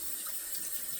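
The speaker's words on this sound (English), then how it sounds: "Gently squeeze the knot out for lather, and it goes under hot water." A shaving brush rinsed under a running hot water tap at a bathroom sink before lathering shaving soap; a steady, close, full rush of water with no voices.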